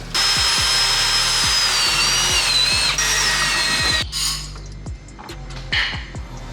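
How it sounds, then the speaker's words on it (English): Power drill driving self-tapping screws into the subframe of an R53 Mini, a loud steady whine with repeated bursts as screws bite, then easing into a few short, quieter drill pulses near the end. "now we're doing some self-tapping screws in the subframe"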